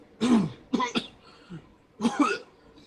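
A voice imitates a series of rough, gravelly coughs, three bursts followed by a softer grunt, close and clear.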